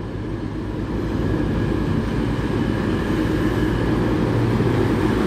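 A Class 222 diesel passenger train on an East Midlands Railway service from Sheffield rumbles in with a heavy, steady low engine drone that grows slightly louder, with no talking.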